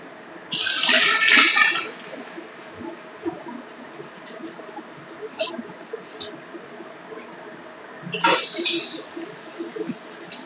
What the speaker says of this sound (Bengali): সেই জন্যই জলটা এইভাবে নিকড়ে বাদ দিয়ে দিচ্ছি